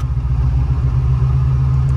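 A 1949 Ford F1 restomod hotrod with a V8 engine drives along, its deep, steady engine rumble loud and close from the cabin, holding an even drone throughout with no talk.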